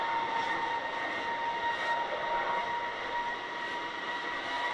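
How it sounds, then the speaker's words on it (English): A steady, dense roar of gas venting from a flight-proven SpaceX Super Heavy booster during a static fire, with a faint high whine running through it, continuous and fairly loud, with no voices. "Here's some of that venting there."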